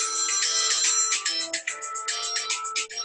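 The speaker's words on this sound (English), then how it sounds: "They still want to call. The phone don't stop." A phone ringtone from an incoming call plays as a continuous bright electronic melody of rapid repeating tones, loud and close, with no one talking over it.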